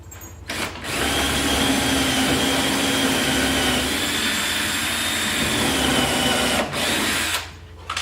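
A power drill runs continuously for about six seconds while boring into a pine plank wall, a steady loud whine with brief pauses at the start and end.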